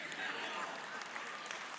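Scattered clapping from a church audience, a light, patchy patter with a crowd murmur and speech over it.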